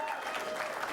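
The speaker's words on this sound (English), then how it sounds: "Hold your applause, please." Applause from a school board meeting audience right after a speaker finishes, a steady continuous patter of clapping filling the room without pause.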